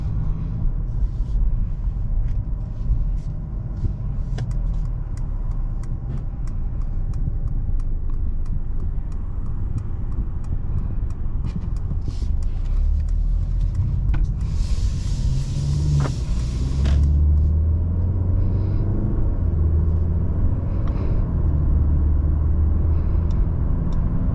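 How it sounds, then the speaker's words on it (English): A 2022 Mercedes-Benz C-Class in mid Exclusive trim cruising on the road, heard from inside as a steady low rumble of engine and tyres with light road noise, smooth and fairly quiet, no talk. "driving this all new C-Class does drive nice and smooth, very quiet"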